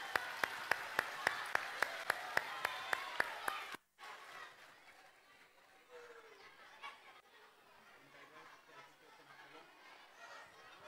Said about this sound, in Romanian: Haideți să o aplaudăm!